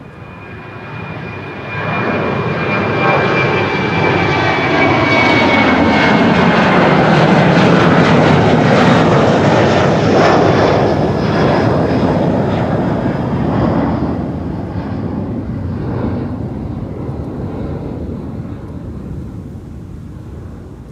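Narrow-body Vueling and KLM airliners pass at Amsterdam Schiphol Airport, their engine roar swelling in after two seconds and holding loud and broad for about twelve seconds before easing slightly, with no talk over it.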